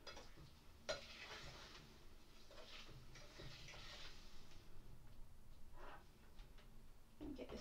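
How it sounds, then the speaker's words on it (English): A spoon scrapes and taps softly as a fudge mixture with melting butter is stirred in a pan, faint irregular scraping strokes under a low steady hiss, with no one talking. "So I'm just gonna keep stirring."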